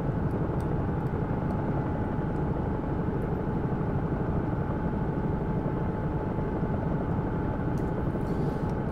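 A Bell 222 air ambulance helicopter flies in the X-Plane 11 simulator over London, its steady, loud rotor and turbine drone continuing evenly throughout with a faint high whine above the rumble.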